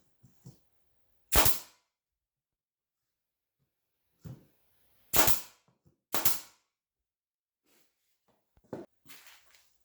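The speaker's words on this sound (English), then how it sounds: "I'm going to go ahead and do a couple of test shots with this new nail gun and just on a couple of scrap pieces of wood" A Performax 16 gauge nail gun fires test shots into scrap wood, producing four or five sharp pneumatic bangs at irregular intervals, each with a short hiss and clatter between them.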